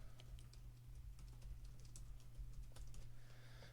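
Quiet typing on a computer keyboard, a quick irregular patter of key clicks running steadily for a few seconds over a faint background hum.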